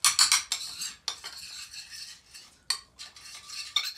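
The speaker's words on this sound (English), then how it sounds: "So then some Parmesan cheese, just grated in. All right. Mix that up." Grated Parmesan being mixed into pici pasta with wild ramp pesto, with repeated clinking and scraping of a utensil against a pan or bowl in uneven bursts, close and without voices.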